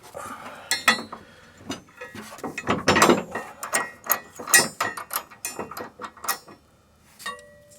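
A washer, lock washer and nut are fitted onto a gooseneck hitch bolt under a 2017-2022 Ford F-350, with busy close metallic clinks, rattles and ratcheting that continue steadily and then fall quiet near the end.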